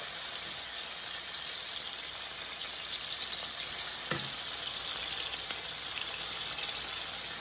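Onion fries in a hot pan with a constant bright sizzle, close and steady, and a brief clack partway through.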